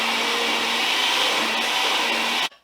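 A blender whirring through an artichoke and chickpea sauce seasoned with salt and pepper, a loud steady motor whine close by for over two seconds, then cutting off abruptly.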